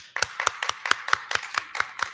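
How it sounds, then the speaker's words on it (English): A few people clap for the project-based learning facilitators at a Pontiac school district board meeting: about nine separate, evenly spaced claps, fairly close and loud, with no talk over them. "So if we could just give them a round of applause"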